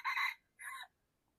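A rooster crows in two short bursts, the second one shorter, heard at a moderate distance against near silence.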